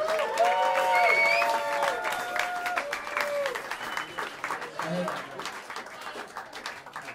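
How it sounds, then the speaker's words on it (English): Audience applause fills a live jazz club in New York City, loud and steady at first and then thinning, with musicians' instrument tones ringing over it early on. "please give a big round of applause to Diego Rivera on the tenor saxophone."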